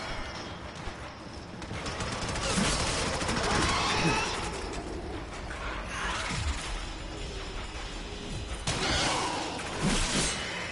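Pistol gunfire in the sci-fi video game To the Solar Seas, a steady stream of sharp repeated shots and clattering mechanical effects, loud and continuous with brief dips.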